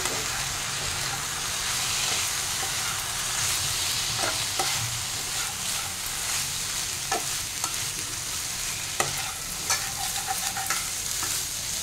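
Chinese-style chapati noodles with soy sauce, tomato ketchup and soaked chilli being stirred and fried in a pan: a steady sizzle with repeated scraping and clinking of the spatula, close and continuous, with no voices.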